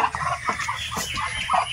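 Several Chinese ducks on a duck farm call close by, a mix of raspy honks and quacks in quick, uneven bursts.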